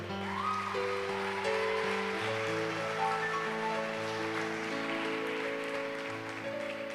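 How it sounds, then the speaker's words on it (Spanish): A church congregation applauds during a sermon, a soft, continuous wash of clapping spread beneath sustained keyboard chords. "Dale un fuerte aplauso al Señor"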